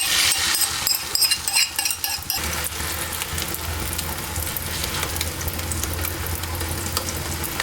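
Eggs frying in mustard oil in a pan give a steady close sizzle, with a few sharp clatters and scraping sounds near the start before the frying settles into a continuous hiss.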